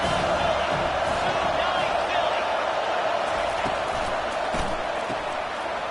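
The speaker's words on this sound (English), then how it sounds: "this crowd is turning it up a notch" Stadium crowd at a college football game between Tennessee and Ole Miss, a loud, steady roar of cheering that swells continuously throughout, with a commentator talking over it.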